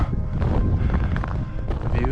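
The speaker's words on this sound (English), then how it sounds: "Getting windy," Strong, steady gusts buffet the microphone on an exposed winter summit of South Moat Mountain in New Hampshire, a loud, rumbling roar that keeps up without a break for the whole moment.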